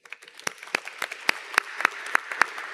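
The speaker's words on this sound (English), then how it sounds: "give a round of applause to Sarah Beswithick." Only a handful of people clap at a university convocation ceremony, producing about a dozen separate, crisp claps in an uneven rhythm over quiet room tone.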